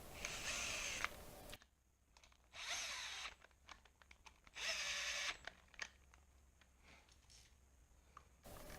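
A power drill whirs in three short bursts, spinning long bolts in while installing a Z125 motorcycle GP shift kit, separated by quieter clicks and handling noises.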